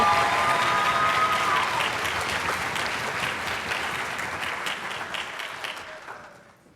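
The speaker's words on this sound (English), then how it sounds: "One more round of applause for the River Ridge Orchestra," A school audience at a spring concert applauds the River Ridge Orchestra, a full, sustained wash of clapping from a large crowd that slowly thins and fades out toward the end.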